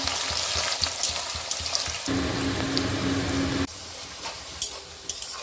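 Onions frying in hot oil with whole garam masala spices and bay leaf for a mutton curry, a steady close sizzle with soft spoon scrapes, loudest through a dense middle stretch before settling back, no voices.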